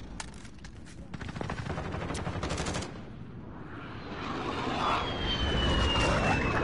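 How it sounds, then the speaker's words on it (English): An enemy VTOL jet roars in during a Call of Duty Modern Warfare match, its engine swelling into a broad, rising whoosh after a burst of rapid machine-gun fire, loud and close in the game mix. "Enemy VTOL jet in the AO."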